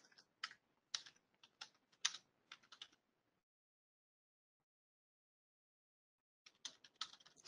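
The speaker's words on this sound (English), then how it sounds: "So we'll type in sales manager." Quick bursts of close typing on a computer keyboard, a run of sharp key clicks, then a pause of silence, then another short burst of keystrokes.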